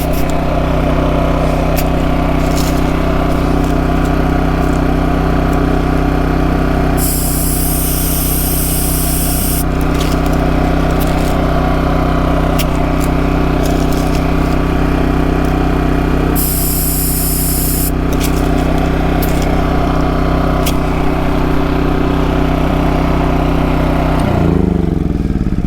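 A small lawn mower engine runs steadily for the whole stretch, close and loud, its low harmonic drone unbroken, with two short bursts of high hissing partway through and a slight shift in pitch near the end.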